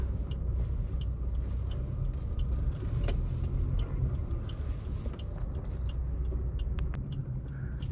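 Maruti Swift ZXI+ hatchback heard from inside the cabin while driving: a steady, loud low engine and road rumble that holds evenly throughout, with faint rattles and no talking.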